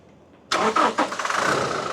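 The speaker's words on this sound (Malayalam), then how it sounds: "നമുക്ക് വണ്ടിയുടെ എൻജിൻ ഒന്ന് സ്റ്റാർട്ട് ചെയ്ത് നോക്കാം" A 2020 Toyota Innova Crysta BS6 diesel with automatic transmission starts up: a short cranking burst catches into a steady, close engine idle after a quiet moment.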